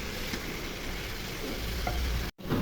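Papaya fry with chopped green chili sizzling and being stirred in a pan, a dense continuous hiss with soft scraping, cut off abruptly near the end.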